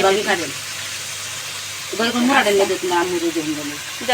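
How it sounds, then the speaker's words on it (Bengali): Meat being sautéed (kosha) in a pan in a home kitchen gives a steady, soft sizzling hiss, while several voices talk loudly over it through most of the moment. "মাংসটাকে এখন কষিয়ে নিচ্ছে ভালো করে"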